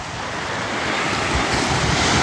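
Sea waves wash onto a beach in a steady, unbroken roar of surf, mixed with wind rumbling across the microphone. No voices are heard.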